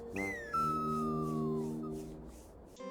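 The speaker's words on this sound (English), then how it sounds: "Sokka falls to the ground, accompanied by a sliding whistle effect." A cartoon slide whistle effect glides downward in pitch over a sustained tone as a character falls, followed by a brief sharp sound at the end.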